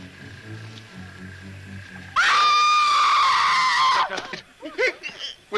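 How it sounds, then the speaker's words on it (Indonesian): A loud, sustained human scream bursts out after a quiet stretch with soft music, then breaks into shorter cries and gasps. "tak lama kemudian terdengarlah suara teriakan"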